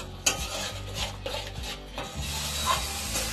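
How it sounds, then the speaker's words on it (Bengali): A spoon stirs and scrapes spice paste frying in a pan for Bengali crab curry, with repeated scraping strokes and soft clinks over a faint sizzle, no talking. "দিয়ে আমি মশলাটাকে একটু 10 মিনিট একটু ভালো করে কষে নেব।"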